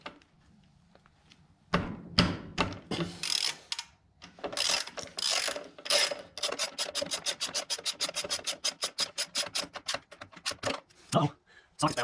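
Socket wrench ratcheting on a bolt of a Snapper Z-turn mower with a Briggs Vanguard 20hp V-twin engine, close and clear: scattered clicks, then a long rapid run of even ratchet clicks, with brief talk nearby.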